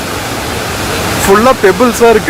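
Athirapally waterfall in Kerala roars as a steady, loud wash of falling water, heard close up beneath a person talking.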